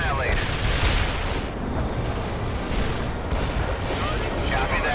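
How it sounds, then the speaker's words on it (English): Artillery shells striking in the war game World in Conflict, a dense, loud rumble of overlapping blasts and booms that rolls on without a break, with a radio voice speaking over it. "Coordinates locked down. Shells on the way."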